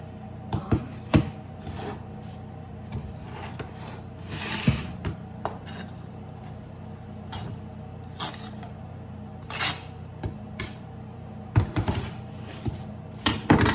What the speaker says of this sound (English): I have some onion over here cut up, so I'm gonna add onions and lettuce